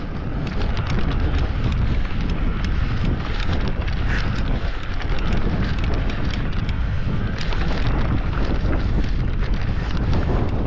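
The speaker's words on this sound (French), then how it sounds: "Ouais, il y a un peu de vent." Strong, steady wind buffets the microphone throughout while mountain biking on an electric-assist bike near the Col d'Ibardin on the Spanish side, a loud continuous roar with no talking.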